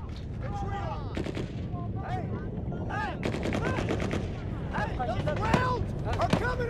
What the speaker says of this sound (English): They're shooting from there and directly down the road.